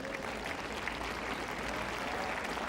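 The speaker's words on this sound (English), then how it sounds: "there'll be a lot more applause than that for Zvereva" A crowd at the 1999 Eastbourne women's tennis final between Zvereva and Tauziat applauds, a steady, even wash of clapping from many hands lasting the whole stretch.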